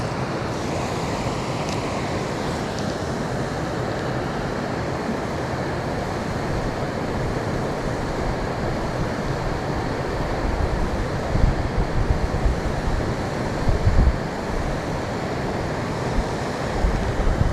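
Water rushing through a creek just below a waterfall makes a steady, broadband roar with occasional heavier splashes and some wind buffeting on the microphone, continuous and fairly loud throughout.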